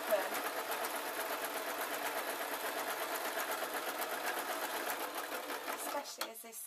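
Domestic sewing machine running a plain running stitch through blackout curtain fabric, a steady close whirring hum lasting several seconds before stopping abruptly, with no speech over it.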